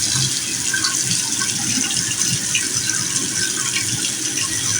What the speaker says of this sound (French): je vais essayer de rincer bien mon visage